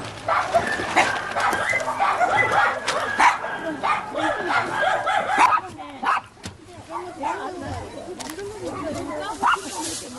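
Many dogs at a shelter for abandoned dogs bark, yip and whimper together in a dense, continuous chorus, close and fairly loud, with people talking at moments.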